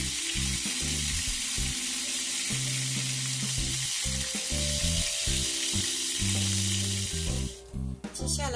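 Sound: pork wrapped in tofu skin pan-frying

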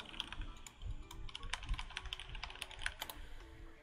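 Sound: typing on a computer keyboard

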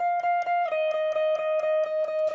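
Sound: lead guitar playing the bridge part of Nadie Como Tu

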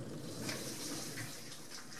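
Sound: dishwasher running its wash cycle, water sloshing

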